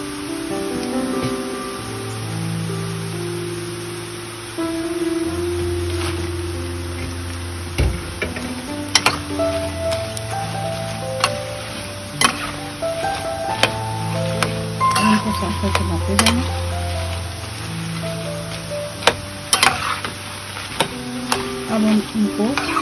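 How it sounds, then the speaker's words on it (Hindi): Phulki, gram-flour fritters, fry in hot oil with a steady sizzle, broken by sharp clinks of a utensil stirring them, while a cook talks throughout and background music plays. "अब हम इनको इस हद तक पकाएंगे ताकि इसमें अंदर नमी ना हो और ये अच्छी बन जाए"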